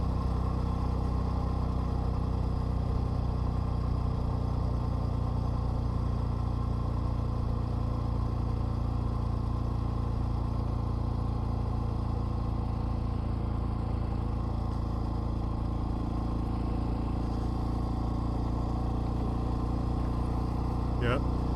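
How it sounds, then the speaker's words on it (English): Dual sport motorcycle coasting without revving along a dirt road, a steady close low engine drone and road noise that holds even throughout, with a rider speaking over it. "basically just coast, don't rev the engine"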